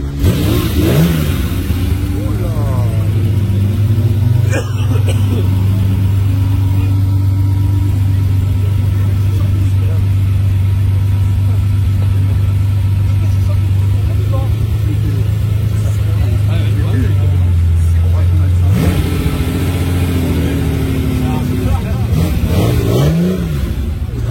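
A 1979 Caterham Seven HPC idles in Paris's place Vauban, a steady loud low rumble with brief throttle blips near the start and end, while bystanders chat over it.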